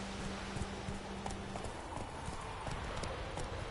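A horse galloping in The Witcher 3, with rapid rhythmic hoofbeats thudding steadily throughout, moderately close, over faint ambient game sound and no speech.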